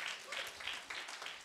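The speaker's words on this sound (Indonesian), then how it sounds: "Tepuk tangan bagi Tuhan." A church congregation at a Christmas service claps together, producing a short burst of fairly faint, rhythmic clapping.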